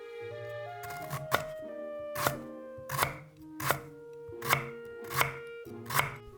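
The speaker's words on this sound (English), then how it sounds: "Mince 2 lemongrass." A knife minces lemongrass on a cutting board with sharp, close, evenly spaced chops, about eight distinct strikes in a steady rhythm over quiet background music, with no talking.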